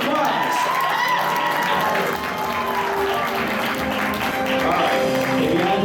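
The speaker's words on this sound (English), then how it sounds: "Thank you. A round of applause." A convention crowd at an anime-themed quiz game show applauds a contestant, a loud, continuous wash of clapping and some cheering that holds steady throughout.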